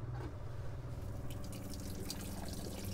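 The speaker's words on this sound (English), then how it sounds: "Turn on the water pump." A steady, continuous mechanical hum with a low drone and a faint watery trickle on top, running evenly throughout with no talking.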